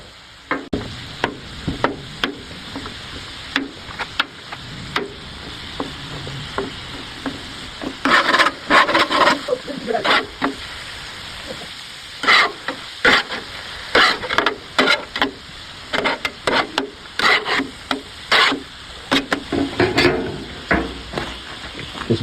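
Salmon sizzling on a hibachi griddle while a spatula chops and scrapes it into pieces, a steady sizzle under frequent sharp metallic taps and clacks, close and fairly loud.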